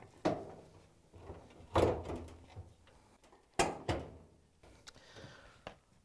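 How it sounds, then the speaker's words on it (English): A dryer drum bulkhead on a Maytag dryer is lifted and hooked into the cabinet, giving several sharp metallic clunks and scrapes spaced a second or two apart, close by with quiet handling noises in between. "you can lift up on the bulkhead and hook it into the cabinet"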